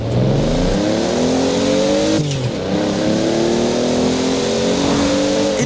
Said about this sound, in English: I don't like the sound of the Toyota Supra in this game